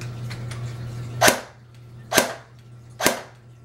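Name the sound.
toy gun firing with tracer unit on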